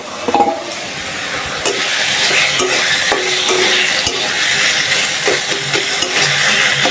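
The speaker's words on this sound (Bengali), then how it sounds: "তেলের মধ্যে কিছুক্ষণ ভেজে নিব" Food fries in hot oil in a pan, a loud, steady crackling sizzle that carries on without a break, with a few sharper pops and faint utensil knocks scattered through it.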